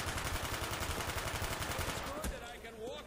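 MP5 submachine gun fire in Black Ops Zombies on the Five map rattles as a rapid, continuous automatic burst for about two seconds, then cuts off into quieter game tones.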